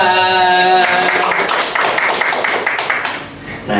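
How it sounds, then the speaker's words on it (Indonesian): A small audience at an internship presentation claps in a brief, fairly loud burst of scattered taps that follows a held musical tone, then thins out and fades. "Tepuk tangan."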